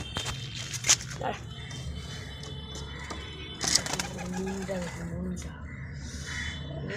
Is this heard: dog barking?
no